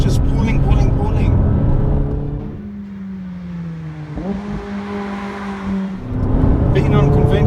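A 2016 McLaren 570S sports car accelerates hard at high revs, its engine note rising in long sustained pulls with a gear change midway, loud and close inside the cabin.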